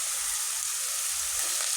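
Curry leaves sizzling in hot oil, a steady loud hiss and crackle of frying throughout, with no talking over it.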